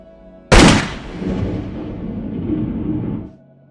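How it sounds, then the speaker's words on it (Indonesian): A single gunshot fired by a young German soldier in a wartime film scene: a sharp, loud crack followed by a long rumbling echo that fades out after about three seconds. "tentara muda Jerman melepaskan tembakan ke arah Petka, sehingga terdengar oleh semua orang"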